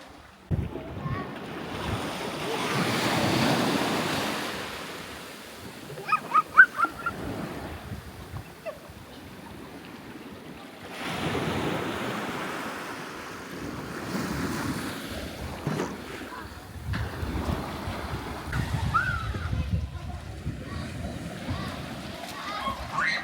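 Waves wash in and recede along a beach at Church Door Cove in Wales, a broad rolling surf in slow swells mixed with gusting wind noise on the microphone, with some talking.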